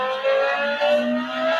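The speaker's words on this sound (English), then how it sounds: "a V10 engine that sounds absolutely incredible, possibly one of the best sounding engines of all times" A high-pitched V10 sports car engine with no flywheel revs, holding a steady, rising whine with a brief surge midway, loud and close.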